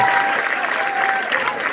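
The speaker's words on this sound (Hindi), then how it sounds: "उनके जोरदार तालियां चलेंगी।" Loud, dense applause from a seminar audience at a nursing event in Jaipur, steady clapping filling the hall throughout with a faint voice or tone underneath.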